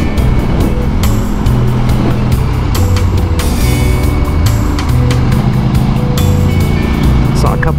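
Fast highway traffic, cars doing 80 to over 90, rushing past a motorcycle lane splitting in California heat; loud, continuous engine and wind roar with passing vehicles, voices talking over it.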